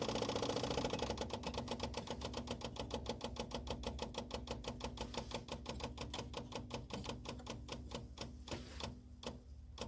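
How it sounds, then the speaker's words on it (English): Electric fuel pump on a Honda N600 sedan, jumper-wired after sitting outdoors for 16 years, pumping gas from a can: a rapid, steady ticking that slows and spaces out slightly toward the end, faint and close. "now the fuel pump runs. It's pumping gas out of my gas can here"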